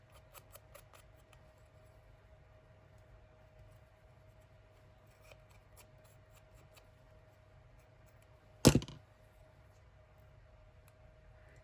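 A single short, crisp snip of scissors trimming a paper page tab at a craft table, close and sudden against a quiet room hum, with a few faint taps and rustles scattered earlier.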